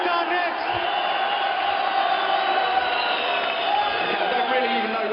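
A boxing arena crowd roaring and cheering continuously, a dense steady wall of shouts and whoops from a large audience, with voices mixed in throughout.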